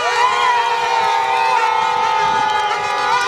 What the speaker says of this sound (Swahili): Makofi kwa Rais Samia.